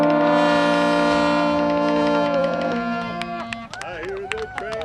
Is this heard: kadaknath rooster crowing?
no